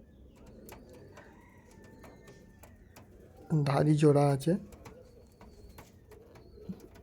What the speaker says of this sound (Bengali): এটা আন্ধ্রার কালাঙ্কা পায়রা।